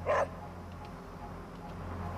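A dog barking while being petted in the video game Marvel's Midnight Suns, a single short, clear bark at the start, followed by a quiet, steady game background hum.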